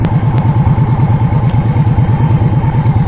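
An Indian Scout motorcycle idles with its exhaust loud and close, a steady, lumpy low thump repeating evenly throughout with a faint mechanical clatter on top and no talking.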